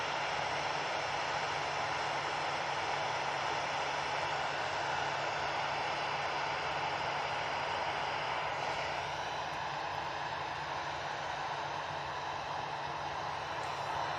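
An EasyJet Airbus A320 arrives at Manchester Airport from Malaga with a steady, broad, loud jet engine roar that holds evenly throughout, heard alone without talk.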